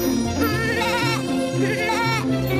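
A goat bleats several times in a row, each call a loud, wavering, nasal cry, close up and with no voices alongside.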